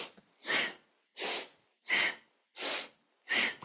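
Five strong, evenly spaced breaths in kundalini yoga, each a full inhale or exhale through the nose lasting about half a second, close and loud with short silences between and no talking.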